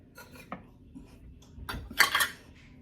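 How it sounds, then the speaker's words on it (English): Sweet and sour sauce for country ribs is stirred and mixed in a bowl, with a handful of light utensil scrapes and clinks, louder toward the end, and no talking. "just stir it all up good and get it mixed well"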